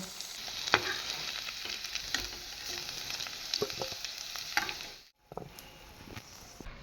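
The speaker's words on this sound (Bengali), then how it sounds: "আলুটা লাল লাল করে ভাজা হয়ে গিয়েছে" Salted potatoes fry in hot oil with a continuous soft sizzle. Occasional scraping stir clicks sound close by, and the sizzle briefly drops out near the end before resuming.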